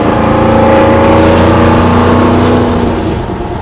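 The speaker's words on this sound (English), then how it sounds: "truck gets up the road pretty good." Lifted Squarebody three-quarter-ton truck with an LS engine swap accelerating up the road, a loud, steady engine drone with layered harmonics that eases off slightly near the end.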